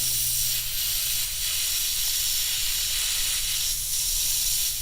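Airbrush sprays paint onto a T-shirt, a continuous airy hiss holding steady and close, with a low hum beneath and no voices.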